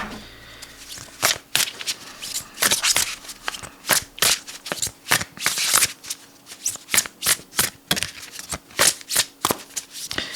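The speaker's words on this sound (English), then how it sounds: "Let's go to this one, Tree of Life, Tree of Life Oracle. Let's pull a couple of cards for Trump." A deck of Tree of Life Oracle cards being shuffled up close, a brisk run of riffling bursts and soft card slaps repeating in quick succession with no one talking.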